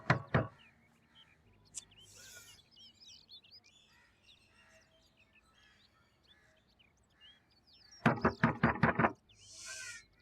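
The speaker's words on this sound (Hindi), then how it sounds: "कब से दरवाजा बजा रहा हूँ, दरवाजा क्यों नहीं खोला तुमने?" Loud knocking on a door comes in two bursts, a couple of hard raps at the start and a rapid series of knocks near the end, with birds chirping faintly in between.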